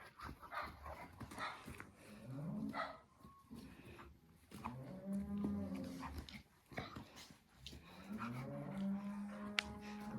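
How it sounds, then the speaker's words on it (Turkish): Cows moo repeatedly in long, drawn-out calls during a power outage, unmilked, with a dog barking now and then in the background. "inekler e, neden bağırıyor?"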